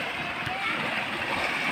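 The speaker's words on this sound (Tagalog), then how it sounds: "Ito yung dagat na" Sea water splashes and washes over smooth stones at a beach resort in Cantapoy, Surigao del Norte, a continuous close rushing under a person talking.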